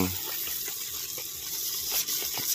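An automatic 360-degree lawn sprinkler sprays water under strong pressure, producing a continuous, even rushing hiss with faint spattering, close and steady throughout.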